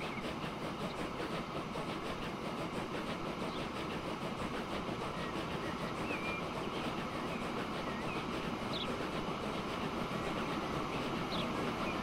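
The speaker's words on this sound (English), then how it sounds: "But we got trains just whizzing about the place here" Simulated trains rushing around a Transport Fever 2 rail network, a faint continuous rumble and clatter of wheels with occasional small squeaks, steady throughout and with no talk.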